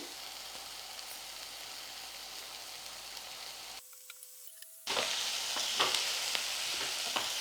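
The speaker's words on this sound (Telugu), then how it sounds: "మెంతికూరిని ఫస్ట్ వేగనివ్వండి ఆయిల్లో" Fenugreek leaves fry in oil for a pickle, giving a steady close sizzle with a brief cut to near-silence and faint tones midway before the louder frying resumes.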